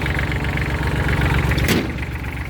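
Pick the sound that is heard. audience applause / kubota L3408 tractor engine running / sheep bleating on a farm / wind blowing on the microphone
kubota L3408 tractor engine running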